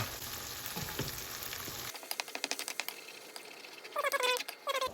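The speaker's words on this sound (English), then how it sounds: "and then I'm going to add in the coconut milk now" Coconut milk goes into a hot pan of tofu curry, and a loud sizzle gives way to bursts of crackling and spitting as the liquid hits the oil, close up and with no talking.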